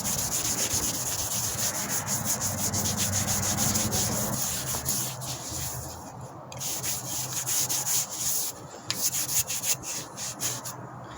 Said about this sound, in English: Now I'm gonna buff them, and then I'm gonna wipe back the Howard's feed and wax too.